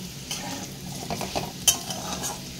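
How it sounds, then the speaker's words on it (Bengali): Potatoes fry in a kadai and are stirred, giving a continuous close sizzle with several scraping strokes and one sharp metallic clink of the utensil against the pan, no speech. "এখানে আমি আলুগুলোকে খুব ভালো করে ভেজে নিয়েছি।"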